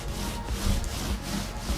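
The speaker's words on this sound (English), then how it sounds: "I'm going to collapse those ridges." A trowel scrapes across thinset mortar on a Strata Mat tile underlayment membrane, flattening the ridges with a steady, continuous gritty rubbing drag heard up close and alone.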